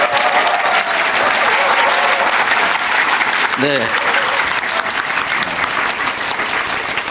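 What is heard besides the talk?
audience applauding and cheering at a town hall meeting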